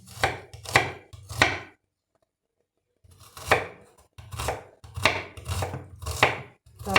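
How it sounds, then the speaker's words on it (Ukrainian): Rapid rhythmic knife chops through onions on a cutting board, in quick bursts with a short silent pause midway, close and crisp. "нарізаємо всю цибулю"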